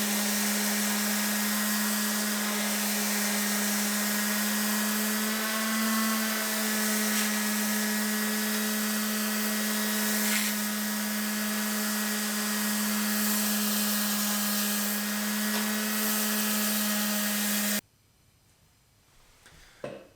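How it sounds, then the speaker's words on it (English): A power sander fitted with pads works drill press parts on a Delta Rockwell drill press, giving a loud, steady whine with a constant hum for most of the clip before it cuts off abruptly near the end. "Pads, sander, let's rock and roll."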